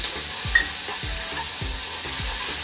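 Paneer shallow frying in half a spoon of ghee in a pan, a continuous soft sizzle with faint regular stirring scrapes, close up with no voices.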